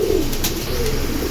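Pigeons sold as a breeding pair give a soft cooing call, brief and close.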